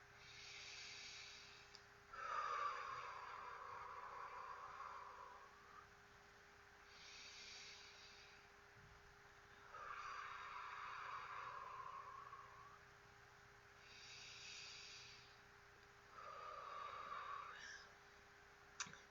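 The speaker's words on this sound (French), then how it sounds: "Puis je vais prendre 3 grandes respirations." Three slow, deep breaths during a relaxation session, each a long airy inhale and exhale, close to the microphone, evenly spaced with quiet pauses between them and no speech.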